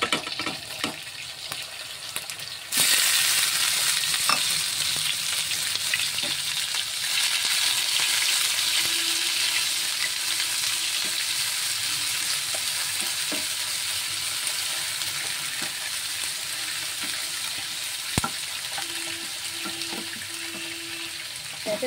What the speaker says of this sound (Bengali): তেলটা গরম হয়ে গেছে, চলো আমি দিয়ে দিই পেঁয়াজটার সাথে